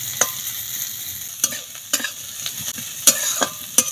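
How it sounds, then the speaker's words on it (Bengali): Sliced onion and green chilli frying in a pan, with a constant sizzle punctuated by sharp scraping stirs of a spatula. "এখন দিয়ে দেবো পেঁয়াজ কুচি আর কাঁচা লঙ্কা"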